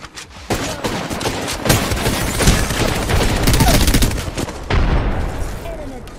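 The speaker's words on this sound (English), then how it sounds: "I'm getting shot at." Sustained rapid gunfire from Apex Legends combat, with dense overlapping bursts of automatic shots running nearly the whole time, loud and close, plus a brief lull near the end.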